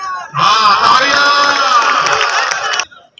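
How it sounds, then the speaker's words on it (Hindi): Loud audience applause and cheering at a live Pakistani verse-duel event between Zubair Khan Trag and Waseem Sheekh Bhaakr, a dense burst of clapping and shouts lasting about two and a half seconds before cutting off. "हाँ तालियां"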